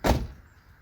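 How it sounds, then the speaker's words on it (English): A single solid clunk of a BMW E46 car door, loud and close, with a short ringing decay fading into quiet. "So of course open your door."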